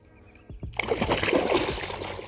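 A hooked tilapia thrashes beside a kayak on Wyaralong Dam: a couple of dull knocks, then a sudden close, loud burst of splashing and spattering water that continues to the end, with no talking.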